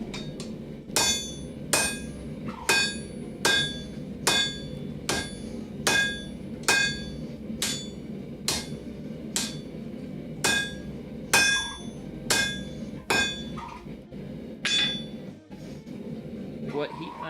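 Steel hammer blows ring out at a steady, repeated pace as a blacksmith forges S-hooks for a firepit, each strike sharp and bright over a low background rumble, with brief pauses near the end.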